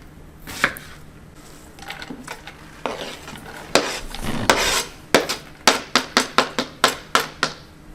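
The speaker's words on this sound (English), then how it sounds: "Cut through to get a nice diced onion." Knife dicing an onion on a cutting board, close and crisp: scattered cuts at first, then a quick, even run of about ten sharp chopping taps, with no talking.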